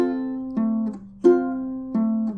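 Choppy index-finger fingerpicking on a ukulele, a few plucked notes ringing out one by one with uneven spacing, close and moderately loud, each note cut short before the next attack, no talking.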